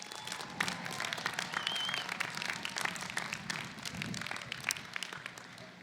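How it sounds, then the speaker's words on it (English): A crowd applauds university staff at a Chico State College of Humanities and Fine Arts commencement ceremony, with sustained, moderately loud clapping spreading through a large gathering and running steadily throughout. "let's give a round of applause to our staff"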